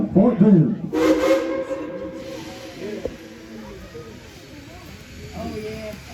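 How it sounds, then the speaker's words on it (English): A steam train's whistle at Tweetsie Railroad sounds in a loud, near blast near the start, followed by hissing steam and people chattering on a rainy opening day. "Casey Jones, let's take this train up to Fort Boone."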